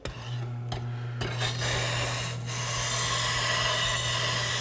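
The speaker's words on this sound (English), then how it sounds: "we'll clamp our gouge up in the jig, match up the bevel angle that we had from before." A woodworking gouge clamped in a sharpening jig is honed on a sharpening station, producing a steady, close scraping rasp with a few sharp clicks near the start over a constant low hum, and no speech.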